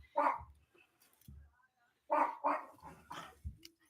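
A dog barks close by in several short, sharp yaps, two separate clusters with a pause between, loud and clear against an otherwise quiet room.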